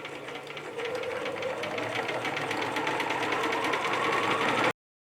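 A home sewing machine runs steadily at a constant pace while stitching a shirt, a continuous close mechanical whir with a fine rapid rhythm that holds for nearly five seconds and then stops abruptly.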